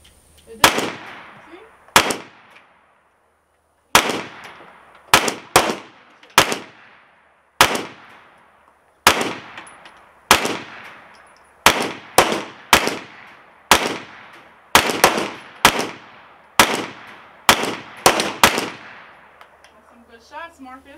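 A gun that keeps jamming fires single loud, sharp shots in irregular bursts, some close together and one long silent gap, each crack ringing out briefly outdoors.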